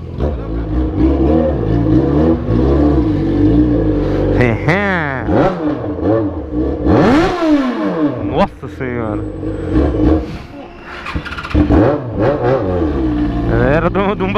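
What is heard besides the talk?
Jaguar XJ6 car engine revving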